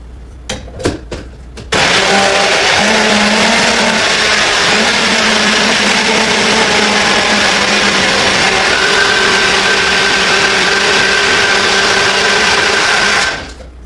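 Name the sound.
blender blending oats and protein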